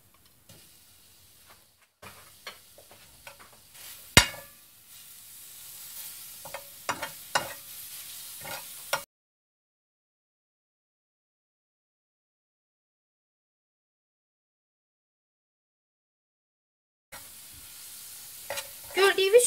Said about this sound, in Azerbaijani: Və az-az əlavə edəcəyik soğanımızın üzərinə.